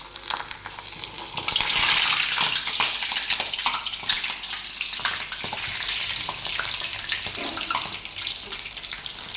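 Hadga flower bhaji fry in hot oil with a loud, continuous sizzle and bubbling, close up and steady throughout.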